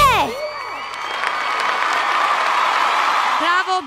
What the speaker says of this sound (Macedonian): За нашата гостинка од Бугарија уште еден силен аплауз